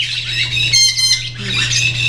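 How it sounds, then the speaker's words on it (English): Pet budgies squawk in loud, harsh, close bursts over a steady low background hum, with a short rasping call in the middle and scratchy chatter on either side. "How about my budgie boys?"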